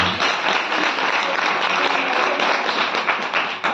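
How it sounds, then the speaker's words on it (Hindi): A crowd gathered for a Shrimad Bhagavat Katha religious discourse claps loudly and steadily: a dense, even wash of hand clapping throughout, with no voices over it. "जोरदार ताली मारो"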